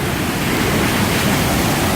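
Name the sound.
waterfall plunging into a plunge pool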